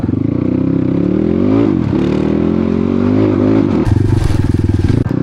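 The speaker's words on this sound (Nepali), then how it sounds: "यस्तो बाइक गएको छ उता एउटा" A motorcycle passes close by on a rough village trail near Gurja in Myagdi, its engine droning loud and rising and falling in pitch, with clattering and a rev toward the end.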